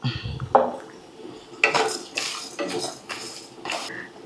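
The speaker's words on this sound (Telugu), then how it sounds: "జీలకర్ర, ధనియాలు, ఎండు కొబ్బరి కలిపి వేపుకుందాం." Cumin, coriander and dried coconut dry-roast in a pan, with a few scraping stirs and metallic clinks of a spoon against the pan, close and intermittent.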